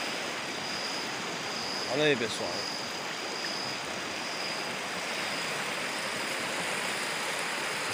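Steady broadband rush of the Salgado River in Ceará, Brazil, running high after heavy rain, fills the whole clip, with someone briefly speaking over it near the start.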